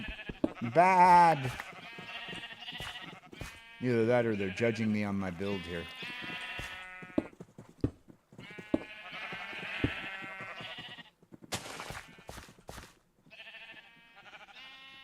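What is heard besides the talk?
sheep bleating in Minecraft video game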